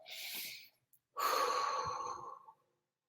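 Deep, audible breaths during a guided healing session: a soft inhale followed by a longer, louder breathy exhale close to the mic, with no speech.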